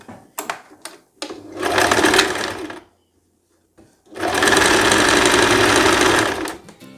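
A sewing machine topstitches a dress seam in two bursts, a shorter run of rapid stitching and then a longer steady one. Brief taps come before each run, with a quiet pause between them and no talking.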